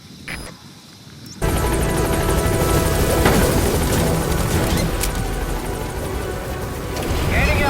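A military helicopter takes off in a Metal Gear Solid game, a dense rotor roar starting abruptly after a quiet moment and holding loud and steady, swelling slightly near the end.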